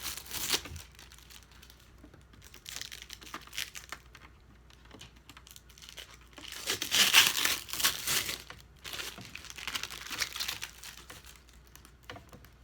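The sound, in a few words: plastic wrap being peeled off a Cricut Explorer Air 2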